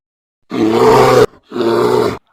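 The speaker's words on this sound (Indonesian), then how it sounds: "Ancam Berry beruang" A bear roars in a narrated children's story, two loud sustained growling bursts separated by a short pause, heard alone without talk.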